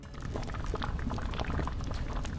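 Steady, dense bubbling of boiling liquid, a continuous close rolling burble with irregular pops throughout, no voices.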